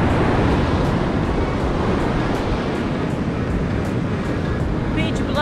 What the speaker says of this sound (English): Place is called Pasut Beach.